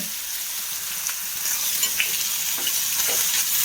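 Eggplant and onion sauté in a pan with a steady, close sizzle and crackle, soft scraping stirs breaking through now and then, no voices.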